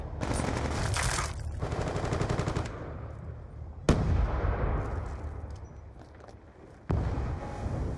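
Video game gunfire: a dense burst of rapid automatic shots, then sharp single cracks with lingering reverb, loud and close, with a further blast near the end.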